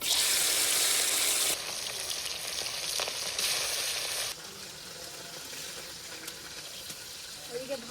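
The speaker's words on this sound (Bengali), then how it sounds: "আর এদিকে মাছ ভাজা হচ্ছে।" Fish frying in a pan gives a loud, close hiss of oil that drops to a softer, steady sizzle after a few seconds, with light clatter and no voices.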